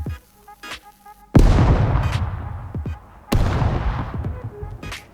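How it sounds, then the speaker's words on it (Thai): Two loud, booming blasts from an explosive item in the video game Scum ring out a couple of seconds apart, each decaying with a rumbling tail, with softer clicks and thuds before them. "เพราะเสียงคล้ายเสียงระเบิดมาก"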